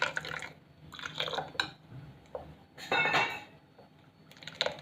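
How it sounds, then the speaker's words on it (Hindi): Water poured into a bowl of thick eggless omelette batter, bursts of splashing and trickling close up with clinks of a utensil and bowl in between, no talk. "फ्रेंड्स ये थोड़ा सा गाढ़ा है तो इसमें हम थोड़ा पानी और डाल देंगे।"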